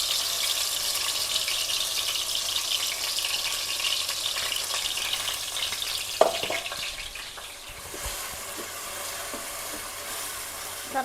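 Coarsely ground onion, garlic and ginger masala for fish sambar frying in hot oil, giving a steady close hiss and sizzle with a couple of light utensil knocks partway through.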